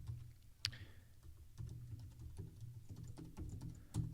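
Faint, uneven clicking of keys on a computer keyboard while HTML text is typed in, scattered taps under a low background hum.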